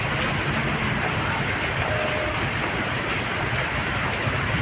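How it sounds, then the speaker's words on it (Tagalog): Steady rain falling on an afternoon in Pasig City, a dense, even hiss of drops on surfaces that holds constant throughout with no clear voices. "Maulan na December."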